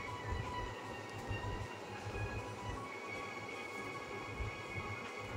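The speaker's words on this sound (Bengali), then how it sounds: "আপনাদেরকে আমি ট্রেনটা দেখাতে চলেছি" A train rolls by with a faint, steady rumble and soft rhythmic wheel clatter, heard at a distance and quietly throughout.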